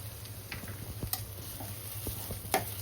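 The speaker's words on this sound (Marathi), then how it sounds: "कसुरी मेथी घातली याच्यामध्ये आणि हे छान परतून घेते" Dried fenugreek leaves are sautéed in oil in a kadhai for a potato curry, with a soft steady sizzle under quiet scattered taps and scrapes of a spatula against the pan, close and low in level.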